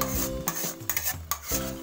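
Carrot halwa with cardamom powder being mixed in a pan, the spoon scraping and rubbing in several close strokes with short pauses between them.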